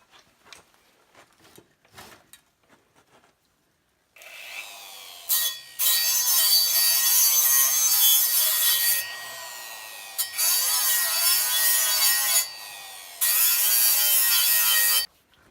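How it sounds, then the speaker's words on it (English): Welds on a 1990 Nissan 240SX rust-repair patch are ground with a 60 grit flap disc on an angle grinder, loud bursts of high whining abrasive grinding in several long passes after a few quiet taps and clicks. "I'll be grinding these welds with this 60 grit flap disc on my"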